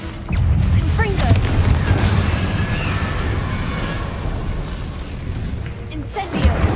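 Confringo explosion spell cast in Hogwarts Legacy: a heavy, booming blast swells into a sustained, loud rumble that roars for several seconds before easing off.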